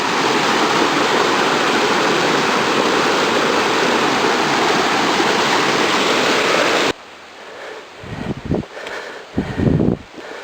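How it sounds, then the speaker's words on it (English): A mountain creek runs loud and steady for about seven seconds, a dense close rush of water, then drops away to quieter outdoor sounds with a few louder knocks. "This is Branch Creek."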